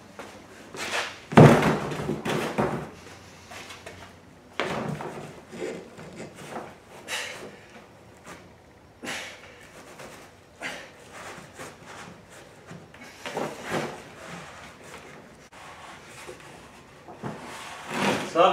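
Scattered clunks, taps and thuds come from a fuel pump being unbolted and pulled off a stock fuel tank, arriving in irregular bursts with quiet gaps between them.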